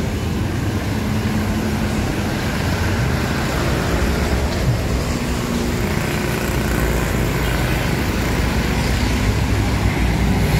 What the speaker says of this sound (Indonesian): Lalu lintas terpantau lumayan ramai.